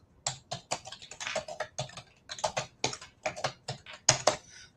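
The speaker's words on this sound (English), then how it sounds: "I'm typing in now." Steady typing on a computer keyboard, close and fairly quiet, with irregular bursts of key clicks and short pauses, no talking.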